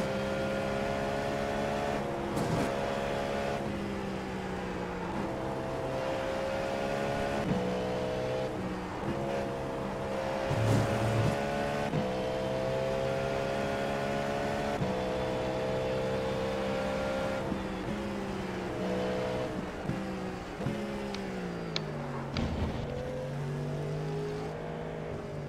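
A race car engine at Le Mans in the iRacing sim drones continuously, with harmonic pitch that rises through acceleration, drops sharply on downshifts and climbs again, loud and steady across the whole stretch.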